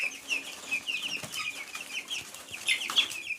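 Broiler chickens on a farm clucking and peeping in a busy, overlapping chorus, close and moderately loud, with several sharper chirps standing out near the end.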